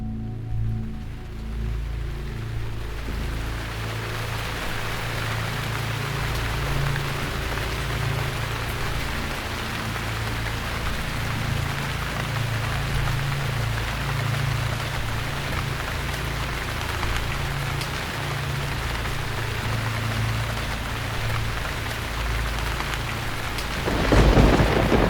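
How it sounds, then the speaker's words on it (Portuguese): Steady heavy rain falls at night during a thunderstorm, a dense unbroken hiss with a deep low rumble underneath, lasting throughout with no voices. "escutei a chuva"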